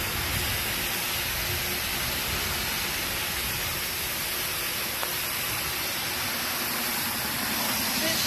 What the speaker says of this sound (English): Then spraying the part that I missed.